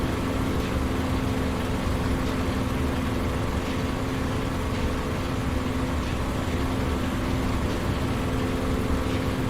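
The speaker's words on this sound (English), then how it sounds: "my engine's clearly been hit. It's out of balance, and I've got the wobble." Hit, unbalanced aircraft engine in a combat flight game, droning steadily with a low rough hum and constant airy roar, loud and continuous with no talking.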